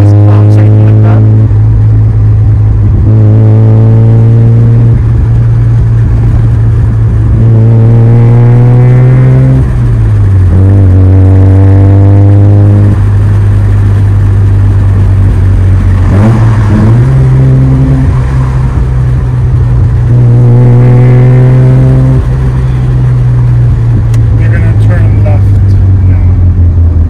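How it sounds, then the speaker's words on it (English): Modified Mazda RX-7 FB with a 12A or 12B rotary engine being driven, a loud, steady drone interrupted by repeated rising revs and gear changes, with a voice talking over it. "Listen to the raw sounds of this 12B or 12A, whichever this engine designation is."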